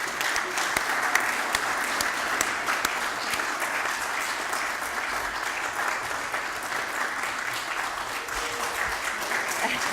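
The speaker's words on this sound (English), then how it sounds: "give our Finance Department, led by our very capable Finance Director, Mrs. Nolan, a round of applause" A crowd at a county commission meeting gives a steady round of applause for the Finance Department, even and continuous for the full stretch, with a faint voice beneath it.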